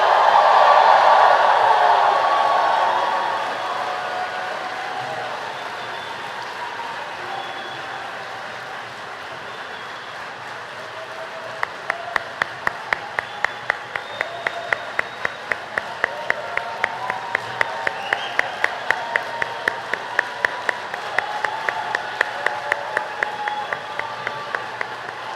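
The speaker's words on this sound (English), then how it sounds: "Please join me in giving class of 2022 a big round of applause." Graduation audience applauding the class of 2022 at an MBA ceremony. A loud burst of clapping fades into sustained, softer applause, then a steady rhythmic unison clap joins in and continues to the end.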